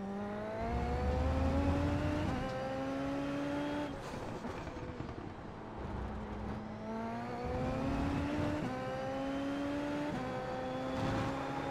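Race car engine in a racing video game with a high-downforce car: a droning motor that rises in pitch under acceleration, drops off, then climbs again in repeated waves, steady and prominent with no talk.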